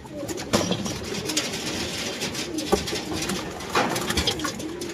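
Pigeons coo in a loft kept for racing, a steady murmur of overlapping soft calls with a few louder coos rising above the flock, close by and continuous throughout.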